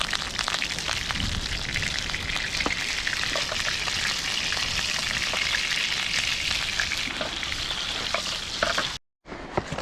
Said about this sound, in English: Add pork to a hot skillet and break the meat apart.